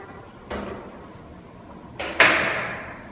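An apartment's sliding door is pushed along its track, giving a couple of sharp rolling scrapes and a bright, close final thud, with quiet room tone in between.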